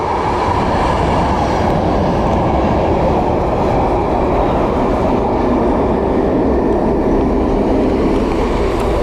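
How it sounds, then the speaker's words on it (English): A train passes close by, a loud, steady rumble with rhythmic wheel clatter that fills the whole stretch. "That'd be a train, mate, yeah."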